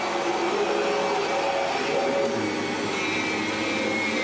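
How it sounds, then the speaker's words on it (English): A vacuum cleaner runs across a room with a loud, steady whine and roar that stays unbroken from start to finish, close by and alone. "we're actually vacuuming the room at the same time"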